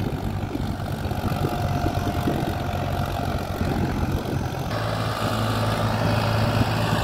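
A Sonalika 35 Sikender tractor engine runs continuously at a steady heavy throb, loud and close, pulling freely along a track with no voices over it.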